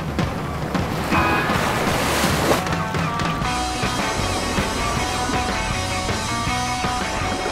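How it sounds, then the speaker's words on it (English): Large ocean waves crash and roll onto a beach, a loud continuous roar of surf with wind buffeting the microphone. "there are great big waves"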